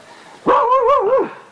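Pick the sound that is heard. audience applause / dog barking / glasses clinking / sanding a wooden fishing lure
dog barking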